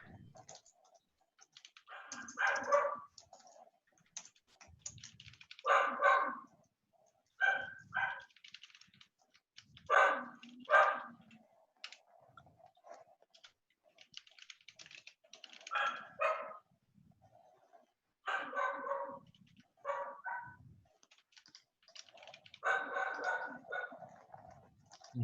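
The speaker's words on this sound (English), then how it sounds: "I hear my dog barking" A dog barks in repeated short bursts, spread out across the stretch with pauses between them, at a moderate distance.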